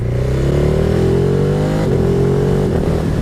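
A Ducati Hypermotard 950 SP with its 936cc twin-cylinder engine runs loud and close, a steady throbbing drone that rises slightly in pitch, then dips and settles.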